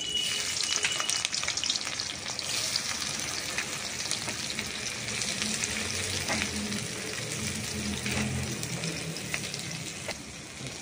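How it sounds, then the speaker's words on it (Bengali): Onions frying in very hot oil in a wok over a high flame, a loud, steady sizzle with scattered spatters and stirring scrapes, with no voices. "পেঁয়াজটা এবার আমি কিন্তু এখানে লাল লাল করে ভেজে নেব।"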